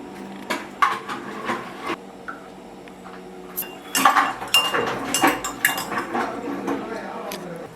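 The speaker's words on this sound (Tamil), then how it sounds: "இப்போ சுடு தண்ணியில் வந்து வெயிட் லாஸ் ட்ரிங்க் வந்து கலந்தாச்சுங்க." A spoon clinks against a cup while stirring a weight loss drink powder into hot water, with irregular light metallic taps that grow busier midway.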